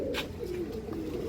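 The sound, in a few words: pigeons cooing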